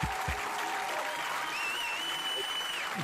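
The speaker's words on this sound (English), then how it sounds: "Let's give them applause." A crowd applauds continuously at the end of an online show, a steady wash of clapping throughout, with faint voices mixed underneath.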